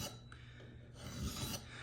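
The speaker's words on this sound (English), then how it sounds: "I'm going to turn the file 90 degrees to the direction I'm going in, and that's going to give us a much finer cut" A steel file draw-filing the sole of a metal hand plane, turned crosswise to the stroke for a fine cut that peels off curls of steel, gives a soft, steady rasping scrape lasting just under two seconds and growing a little louder toward the end.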